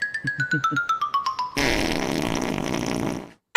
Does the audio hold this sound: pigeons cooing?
no